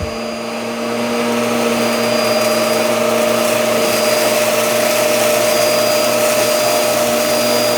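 A Hoover WindTunnel All-Terrain upright vacuum cleaner runs on high with its brushes turning, a loud, steady roaring whine with a constant hum, starting up and holding without a break.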